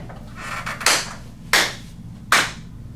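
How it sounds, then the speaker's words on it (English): Three sharp, loud hand claps spaced roughly evenly over a few seconds, each a crisp percussive smack with a short decay, close to the microphone over low background hum. "when I clap, I'm just gonna clap"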